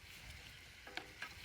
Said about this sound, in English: fry this mixture until it's aromatic and just beginning to brown